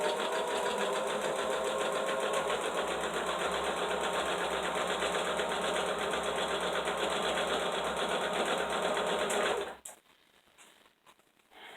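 A home sewing machine runs steadily for nearly ten seconds with a dense, even mechanical whir and rapid clatter, then stops abruptly, leaving a quiet room.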